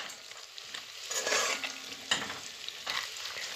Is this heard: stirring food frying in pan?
yes